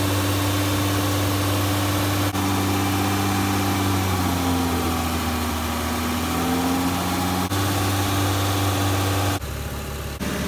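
A car engine holds a fast idle near 2000 RPM while air is bled from its cooling system through a spill-free radiator funnel, a loud, steady hum with a constant drone throughout and a slight drop near the end.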